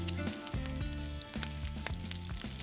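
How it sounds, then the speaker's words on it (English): Oil sizzles in a hot pan on a gas hob at medium-low heat as onion and cauliflower cake cooks, a crackling frying hiss that runs throughout, with faint background music and no talk. "Hear that sizzle. Look at that."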